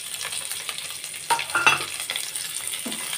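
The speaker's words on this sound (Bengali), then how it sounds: "এখন আমি দিয়ে দেব পেঁয়াজ, রসুন কুচি," Chopped onion, garlic and green chilli sizzle steadily in hot oil in a pan, with a few stirring scrapes over the continuous frying hiss.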